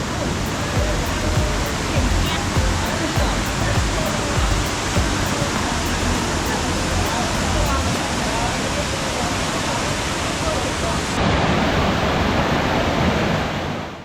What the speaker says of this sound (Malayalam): നെല്ലിയാമ്പതി മലനിരകളിൽ നിന്നും ആരംഭിക്കുന്ന ഈ വെള്ളച്ചാട്ടം 100 മീറ്റർ താഴോട്ട് പോകും